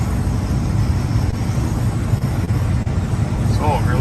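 A small red Express pickup truck drives along a road, a steady close rumble of engine and road noise with light thumps over a bumpy surface, with brief speech near the end.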